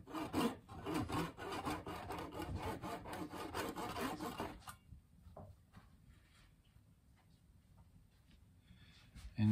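A small hand saw cuts a fret groove into a pallet-wood guitar neck with quick, steady rasping back-and-forth strokes, close and dry for about four seconds, then only faint scattered scrapes and taps.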